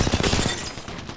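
A rapid burst of gunfire in the video game Apex Legends, several quick close shots in the first half that trail off into a fading echo.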